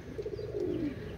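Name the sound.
pigeon cooing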